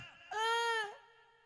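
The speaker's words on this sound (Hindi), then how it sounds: "आपको मेरी ये रोने की आवाज सुनाई दे रही है" A single high, sustained crying wail rises abruptly, holds for about half a second, then drops off into quieter sobbing, heard alone in a Haryanvi stage performance.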